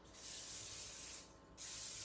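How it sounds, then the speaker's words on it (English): Aerosol oil spray greasing a baking dish for an apple crisp, two close hissing bursts, the first long and steady, a short pause, then a second burst. "So you could use either a little butter on a piece of wax paper, or I tend to use the oil spray"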